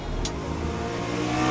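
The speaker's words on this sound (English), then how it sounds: "thump, thump that you get out of this engine when you're on the move." Engine note of a BSA Scrambler 650 single-cylinder motorcycle on the move, a steady low, throbbing drone that runs continuously and close by, rising slightly toward the end, with no talking.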